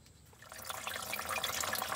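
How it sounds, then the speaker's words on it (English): Coolant draining out of a hose at the front of a Bluebird Wanderlodge bus with an 8V92TA diesel, a splashing, trickling pour of liquid that swells from faint to steady. "So draining the coolant still out of the front of this."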